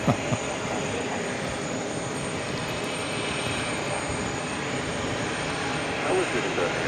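Aircraft at JFK airport near an Emirates A380 being pushed back, heard as a broad, steady engine roar with a high whine held across the whole stretch, loud and constant, with faint radio-like chatter underneath.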